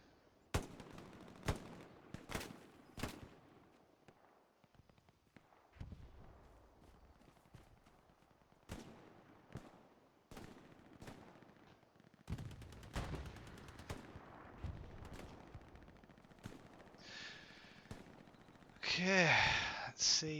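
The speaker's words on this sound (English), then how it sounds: "Running the STG, of course, a weapon favoured by many." STG assault rifle fire in a large Hell Let Loose battle, with sharp bursts and single shots near and far, some rapid automatic fire and a loud blast near the end. Someone talks over part of it.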